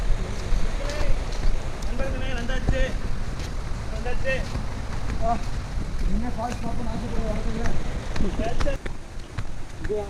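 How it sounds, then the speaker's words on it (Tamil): A waterfall near Kookal in Kodaikanal sends out a steady, broad rush of fast-moving water, with wind buffeting the microphone and people talking over it. "தண்ணியோட சவுண்டு காதில் கேட்குது, நல்லாவே கேட்குது."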